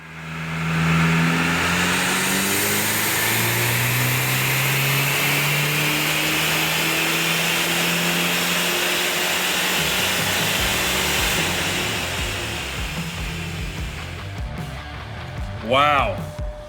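A Ford Mustang SVO engine revs on a dynamometer during a full pull, its loud, rising drone climbing steadily for about fourteen seconds before easing off. A voice speaks briefly near the end.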